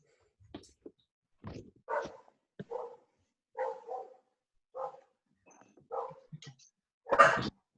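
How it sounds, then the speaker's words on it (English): A dog barks in a series of short, separate yips and woofs, about eight in all, ending with one louder bark, close by against a quiet room. "Oh, she hears the dog somewhere."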